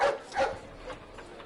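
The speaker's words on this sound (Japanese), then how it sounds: "めっちゃ吠えられた" A dog in a video game gives two short, close bow-wow barks in quick succession, then falls quiet.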